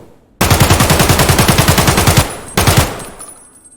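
Automatic rifle fire in Escape from Tarkov: a loud, fast burst of rapid shots lasting about two seconds, a short pause, then a second brief burst fading into a reverberant tail.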